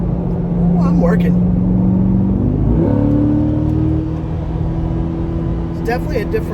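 A 2024 Corvette E-Ray with its 6.2-litre V8 pulls hard on a race track, a loud continuous engine drone rising in pitch through the run, heard from inside the car.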